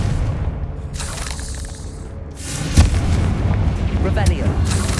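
A Confringo blasting spell explodes in Hogwarts Legacy: one sharp, loud burst near the middle, followed by a rumbling tail over steady game ambience and music.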